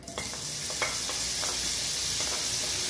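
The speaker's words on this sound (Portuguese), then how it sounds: "nessa panela aqui, nesse fundinho aqui, eu vou colocar o queijo gorgonzola" Gorgonzola cheese melting in the bottom of a pan hisses with a steady, soft sizzle, punctuated by a few light scraping clicks of stirring, with no talking.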